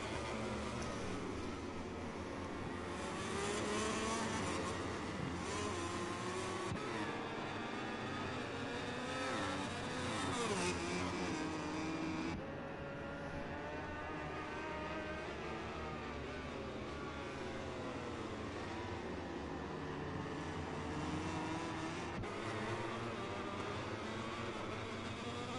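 Racing motorcycles in MotoGP 21 at the British Grand Prix on PS4 produce a continuous, high revving engine whine that rises and falls in pitch as they shift gears through the circuit, with no talking.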